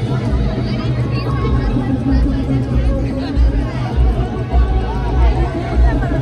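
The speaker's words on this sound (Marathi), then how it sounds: "पण बघा गर्दी बघा किती आतमध्ये जायला, पूर्ण जत्रा लागलेली जत्रा" A dense crowd murmurs and chatters at the Aagri Mahotsav village fair in Badlapur in 2024, a continuous close babble of many voices with a low rumble underneath.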